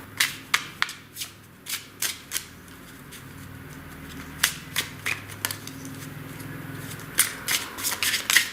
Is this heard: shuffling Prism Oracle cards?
yes